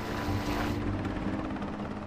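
Sikorsky Black Hawk twin-turbine helicopter, loud and close, makes a dense, continuous roar with rotor thumping and turbine noise throughout and no talk.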